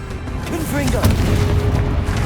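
A fire-blast spell detonates in a fantasy video game, a short, heavy booming blast with a rumbling low-end tail, loud and close, preceded by a brief whooshing swoop.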